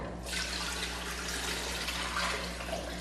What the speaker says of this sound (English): at this time, we're gonna add the water, which is 6 cups of water.